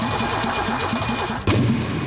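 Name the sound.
Alfa Romeo GTV6 engine starting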